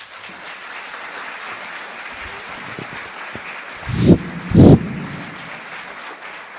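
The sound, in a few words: concert audience applauding the choir director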